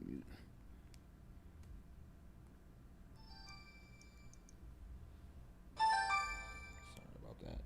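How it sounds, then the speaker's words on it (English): A mobile phone rings partway through a church sermon, its electronic tones sounding in two separate bursts at moderate level over low room hum and background noise. "keep in mind, that's my phone,"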